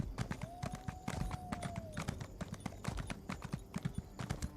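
Rhythmic clip-clop of horse hooves while riding in The Elder Scrolls Online, a steady galloping patter of close, moderately quiet footfalls with a brief tonal sweep in the background.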